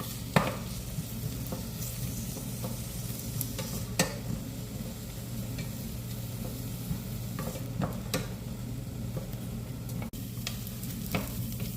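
Onion, dried red chili, curry leaves and garlic fry in a pan for a Tamil brinjal and drumstick kara kuzhambu, giving a steady close sizzle with a low hum beneath and occasional scrapes and taps of a stirring spoon.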